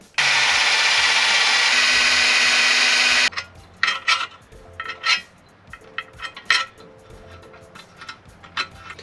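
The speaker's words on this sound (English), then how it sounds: "So I'm just going to use the Dremel." A rotary tool with a 3.2mm drill bit whines loudly and continuously for about three seconds, then stops, followed by scattered clinks and knocks of handling.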